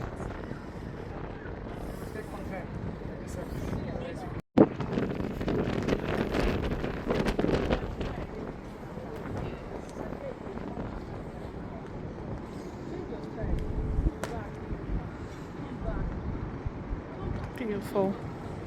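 Steady rumble of a tour boat moving through water at Salford Quays with gusty wind buffeting the microphone; a person speaks partway through, and the engine drone continues throughout.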